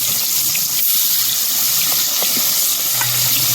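Big fish frying one at a time in well-heated oil for a Bengali fish curry, giving a steady, close hiss and crackle of sizzling with faint spatters throughout.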